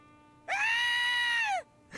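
Scream from the Sam & Max Beyond Time & Space Remastered video game, one loud sustained shrill cry lasting about a second that rises sharply, holds, then cuts off, with nobody talking.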